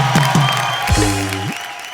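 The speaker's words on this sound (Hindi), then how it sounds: "तो इस बात के लिए खड़े होके तालियां" A comedy show studio audience stands and applauds, a loud burst of clapping and crowd noise with brief vocal sounds over it.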